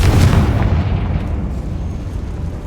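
A Confringo blasting spell detonates in Hogwarts Legacy, a wizarding-world game. A single loud, close, booming blast hits first, then a low rumble slowly fades.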